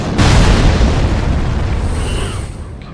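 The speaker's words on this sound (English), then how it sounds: "the giant's obviously shooting still" A giant firing in Dark Souls 3 lands as a loud, deep boom with a heavy low rumble that slowly decays over a few seconds.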